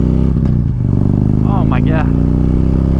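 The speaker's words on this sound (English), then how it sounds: "there's no V-twin quite like these big pushrod Harley-Davidson" A big Harley-Davidson pushrod V-twin motorcycle engine idles with a loud, steady low rumble and pulsing beat close by, while a person speaks briefly over it.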